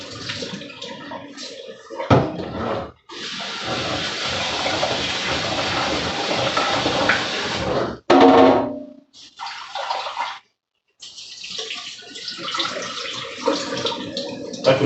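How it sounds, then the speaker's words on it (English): Rice being washed in water for dinner, with bursts of running and sloshing water in several loud, close passages separated by brief pauses, no voices. "Most people in Southeast Asia, when they're cooking their rice, they wash it 3 times."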